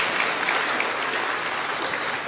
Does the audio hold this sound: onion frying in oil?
no